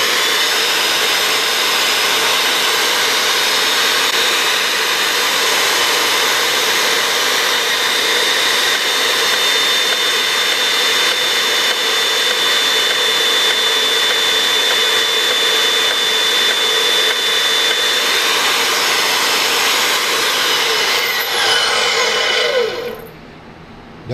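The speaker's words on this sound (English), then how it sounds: "Here we are on the bandsaw, and let's see how this is." A workshop bandsaw cuts continuously, a loud, steady whine and hiss that holds without a break for over twenty seconds and then drops away sharply at the end as the cut finishes.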